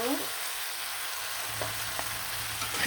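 Vegetables frying in a pan with tomatoes and green chilies added, a steady close sizzle throughout with a few soft stirring clicks near the end.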